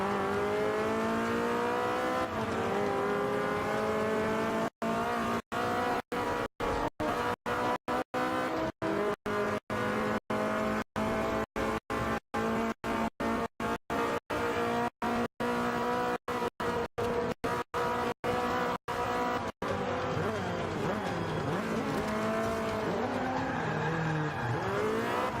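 A race car engine in the Forza Motorsport 5 racing game drones loud and continuous while drifting, its pitch rising and falling through repeated revs and gear changes, with no one talking.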